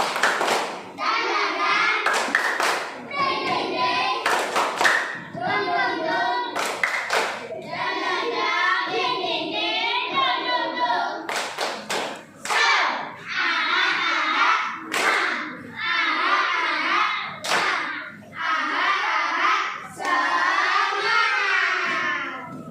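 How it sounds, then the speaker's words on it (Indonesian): A classroom of children chant together while clapping a spirit clap in a brisk repeated rhythm, sharp claps landing in bursts between the sung phrases, loud and close. "Sekarang kita tepuk semangat."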